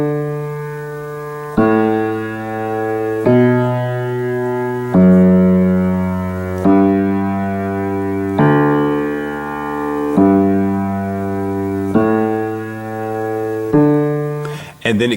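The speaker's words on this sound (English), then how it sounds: "this bass line. As you can notice, I'm playing this in the left hand" On piano, the left hand plays the bass line of Pachelbel's Canon as a slow series of eight low, even notes, each one struck and left to ring before the next.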